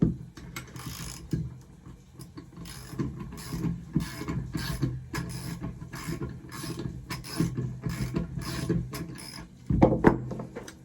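An engine is turned over slowly by hand during a pressure and vacuum test, giving a run of close, uneven ratcheting clicks and mechanical knocks, with a louder clatter near the end.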